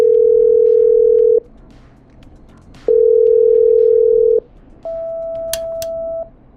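Telephone tones from the video game Killer Frequency as a call is patched through: three long, loud electronic tones separated by short pauses, the last one slightly higher, with a few faint clicks, and no talking.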